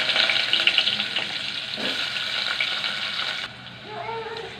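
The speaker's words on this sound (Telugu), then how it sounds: "ఇట్లా బాగా వేగాలండి, ఉల్లిగడ్డలన్నీ రెడ్గా అయిపోవాలా" Dried red chillies and onions frying in hot oil with cumin and curry leaves for palakura pappu, a steady close sizzle with a brief clatter partway through, then a quieter bubbling hiss near the end.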